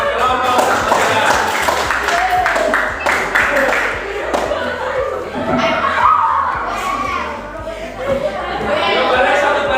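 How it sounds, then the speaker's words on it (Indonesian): A classroom full of children claps for a quiz group, a burst of clapping mixed with kids' chatter and laughter, with a teacher's voice heard over the noise. "Beri tepuk tangan buat kelompok saudara."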